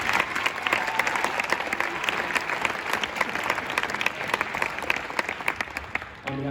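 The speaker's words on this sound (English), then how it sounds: "If we can clap for Stacy Baker." An audience at a music education conference applauds, a dense steady wash of many hands clapping, moderately distant, continuing throughout without voices.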